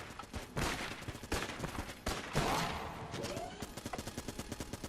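Rapid bursts of shotgun and gun fire in the Enter the Gungeon video game, sharp repeated blasts in quick irregular volleys, fairly quiet overall, with no talking.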